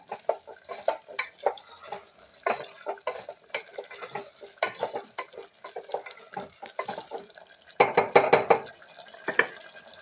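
Spoon stirring dhania powder, salt and spices through veg pulao in a pot, giving repeated scraping clinks and soft scuffs in an uneven rhythm, close by, with a denser burst of clatter near the end.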